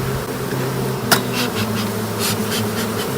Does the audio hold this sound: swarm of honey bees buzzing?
yes